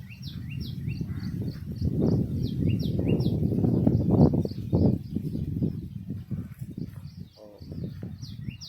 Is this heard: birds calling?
yes